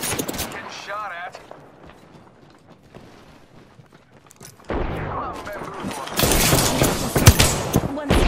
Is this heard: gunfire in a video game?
yes